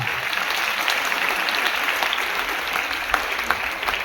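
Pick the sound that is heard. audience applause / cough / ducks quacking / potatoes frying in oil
audience applause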